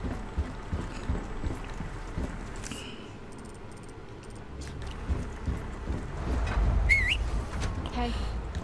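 Leon whistles briefly in Resident Evil 4 Remake, a short, wavering rising whistle near the end, set among game ambience, thumps and other effects.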